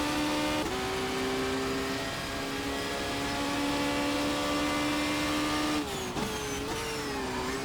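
A Seat race car in the racing game Race 07 holds a loud, steady engine whine that rises and drops through a few gear shifts, then turns rougher near the end.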